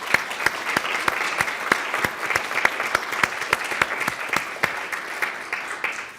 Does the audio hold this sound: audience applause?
yes